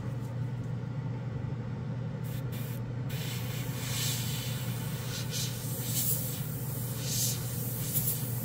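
A Badger Sotar detail airbrush sprays in a steady, continuous hiss with a low compressor-like hum beneath, close and fairly quiet, holding unbroken for the whole stretch with slight swells.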